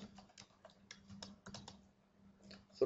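Soft keystrokes on a computer keyboard come in short irregular bursts, with pauses between runs of taps and one louder clack at the end, all fairly close and quiet under a faint steady hum.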